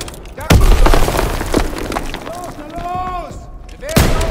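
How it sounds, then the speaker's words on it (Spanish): A grenade goes off in the World War II shooter Call of Duty WWII, loud thumping blasts with debris and ringing tones, a voice shouting over the combat. "¡Granada en camino!"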